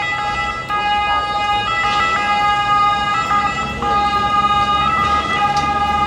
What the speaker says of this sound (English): Yeah, it's an ambulance.